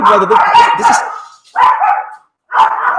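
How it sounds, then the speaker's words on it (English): Several dogs barking loudly and close by in three bursts separated by short gaps, one yipping bark mixed in. "Excuse the dogs."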